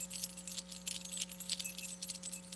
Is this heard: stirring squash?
no